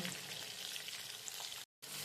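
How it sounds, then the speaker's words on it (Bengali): Potatoes frying in oil with turmeric and salt for Dak Bungalow chicken make a dense, continuous close sizzle that cuts out for a brief moment near the end, then resumes. "আলুগুলো আমি ভালো করে ভেজে নেব"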